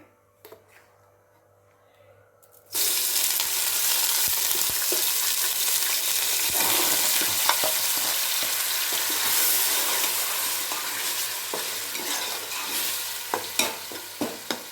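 Onions and curry leaves hit hot oil in a village-style fish curry pan, bursting into a loud, steady sizzle after a quiet start, with scattered pops and stirring scrapes crackling through to the end; no voices.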